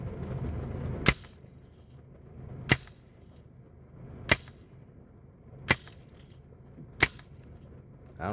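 Five sharp CO2 pistol shots from a Steel Storm gun that had been tampered with, fired alone at roughly even intervals of about a second and a half over low background rumble.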